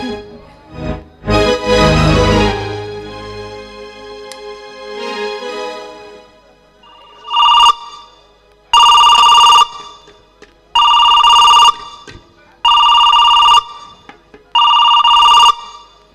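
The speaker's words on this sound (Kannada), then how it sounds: "ರವಿಗೆ ಫೋನ್ ಮಾಡ್ತಾ ಇದ್ದಾರೆ." A telephone rings in five evenly spaced, loud electronic bursts, following a stretch of quieter rustling and a brief thump.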